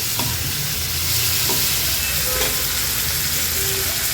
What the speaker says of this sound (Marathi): अशाच पद्धतीने एक एक करून सर्व बोलटा मी पलटून घेते